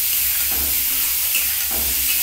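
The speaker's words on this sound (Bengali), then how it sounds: "এই ফুলকপিটা আমি একটু লাল লাল করে একটু ভেজে নিচ্ছি" Cauliflower frying in a little oil with onion and five-spice seeds, a steady close sizzle and hiss with soft stirring scrapes over it, and no voices.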